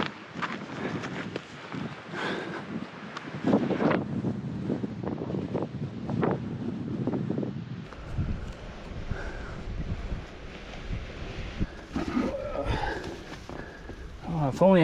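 Strong wind buffets the microphone on a desert mountain trail in the Spirit Mountain Wilderness near Lake Mohave, a steady roaring rush with gusts throughout, while someone talks over it.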